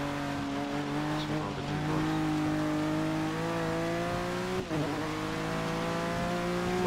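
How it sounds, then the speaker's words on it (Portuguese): Race car engine in Forza 6 on a rainy campaign track, loud and steady with a sustained revving drone under acceleration and a brief dip and shift partway through, no talk. "O carro acelera na hora."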